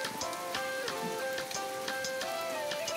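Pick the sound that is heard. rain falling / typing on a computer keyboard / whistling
rain falling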